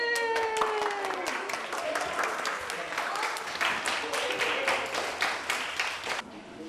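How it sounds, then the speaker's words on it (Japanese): Children in a Japanese kanji karuta classroom burst into applause after a game's winner is announced, a steady patter of many small hands clapping close by for several seconds, with brief chatter and a few voices mixed in. "拍手。"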